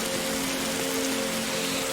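Steady video-game rain falling in a forest survival game, an even hiss of drops with a faint background tone, heard alone.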